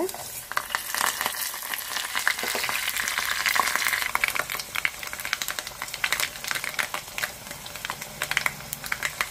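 Garlic, curry leaves, fenugreek seeds and mustard seeds crackle and spit in hot oil for a tempering, a loud, dense, steady sizzle with sharp popping bursts throughout and no talking.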